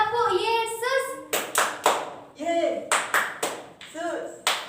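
A group claps hands together in a 'Tepuk Yesus' clap song at a Sunday school, with sharp bursts of clapping in quick rhythmic runs alternating with a voice singing and children chanting.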